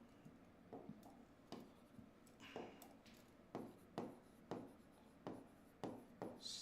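A vector symbol is written on a board with a chalk-like tapping and scratching stroke pattern, several distinct quick strokes and taps spaced across several seconds, close and fairly quiet, with no speech.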